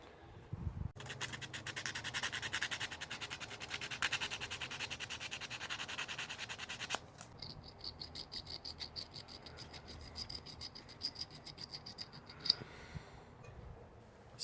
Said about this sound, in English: I'm going to use some sandpaper on this piece of copper